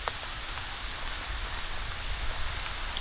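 Steady rain falls on a dark day during a hike, a dense even hiss of drops on surfaces that holds at a constant level throughout with no talking.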